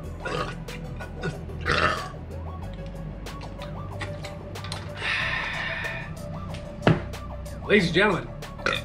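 Burps ring out during a burping contest, several loud belches scattered among a man's speech, with a longer rough burst partway through and a couple of sharp ones near the end.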